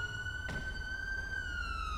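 A police siren in the LSPDFR video game holds a steady, loud wailing tone close by, with one brief sharp click early on and no talk.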